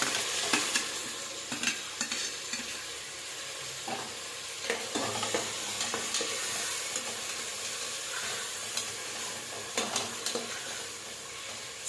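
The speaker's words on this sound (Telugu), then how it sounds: "ఇప్పుడు టొమాటో వేసేద్దాం." Tomatoes go into onions frying in a pan for tomato bath, giving a soft, continuous sizzle broken by repeated spoon-stirring scrapes and clicks, fairly quiet and close.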